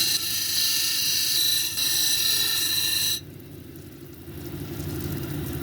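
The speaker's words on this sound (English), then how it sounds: "I'm going to start grinding on this top edge right here and work my way towards the center of the cab" A purple jade cabochon is ground on a grinding wheel, working from the top edge toward the center. A steady, high-pitched whine holds for about three seconds and then drops away to a lower mechanical hum.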